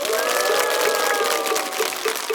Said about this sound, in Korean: 여러분들 여기 계시는 스님들하고 우리 월정사에 큰 박수 부탁드립니다.